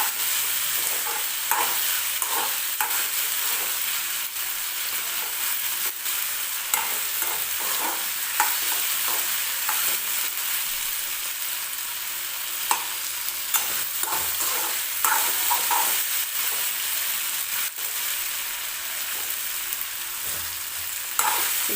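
Chopped tomato and dry spices roast in a hot pan for onion-tomato chutney, giving a continuous loud sizzle. A spoon scrapes and stirs against the pan again and again throughout, with no talking.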